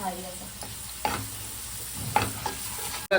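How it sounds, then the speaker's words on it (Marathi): Spice masala with tomato is stirred as it cooks in a pan. A few distinct scraping strokes cut over a soft, continuous sizzle. "मसाल्यांना आपल्याला मिक्स करून घ्यायचंय म्हणजे आता शिजवून घ्यायचंय आहे चांगल्या प्रकारे टोमॅटो मस्त शिजला पाहिजे"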